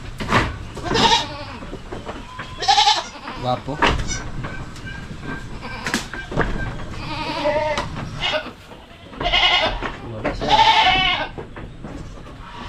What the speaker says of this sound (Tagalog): Ito yung kambing natin, oh.